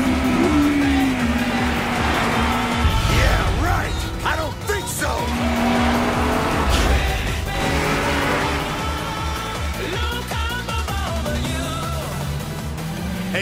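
Race cars on a mountain pass in the Initial D anime roar through the final corner, engines revving and tires squealing with skids, loud and close amid a busy mix of overlapping motor noise.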